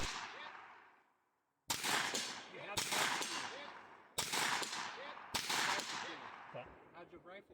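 Rifle gunshots fired at distant targets during a shooting competition, four or five sharp cracks at roughly one-second intervals, each followed by a decaying echo.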